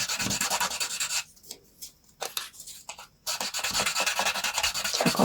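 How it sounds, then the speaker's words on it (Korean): Close, rhythmic scratchy rubbing of sandpaper against a leather edge, continuous strokes with a brief pause in the middle before sanding resumes. "좀 더 부드럽게 단면 작업을 할 수 있게 사포 작업을 한번 해주는 겁니다"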